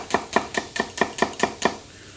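A knife dices red onion and garlic on a cutting board in seven even, crisp chops close by, then stops.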